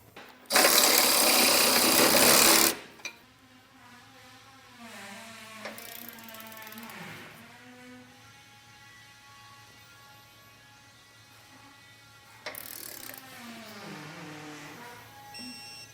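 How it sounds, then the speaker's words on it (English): A ratchet clicks rapidly in a loud, close burst, snugging base plate bolts on a 2018 Ford F-150, followed by quieter mechanical whirring and intermittent clicking over a steady low hum, then another short ratcheting run. "we'll run these down, snug them up, and we'll torque them"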